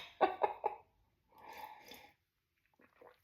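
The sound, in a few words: throat clearing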